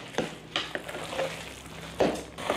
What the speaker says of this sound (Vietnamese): Lúc này lượng nước ở bên dưới nồi nó cũng cạn rồi, cho nên anh chị chịu khó đảo tí xíu.